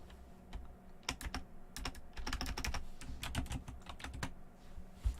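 Rapid bursts of keystrokes on a computer keyboard while a card is looked up, clustered clicks in irregular runs with brief pauses, close and clear over a faint room hum.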